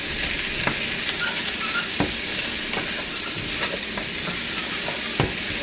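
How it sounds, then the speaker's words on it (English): Ham, bacon, cabbage and potatoes frying in a pan, a constant loud sizzle broken by repeated scraping stirs of a spoon, close up and with no talking. "And then we're just going to give it a stir."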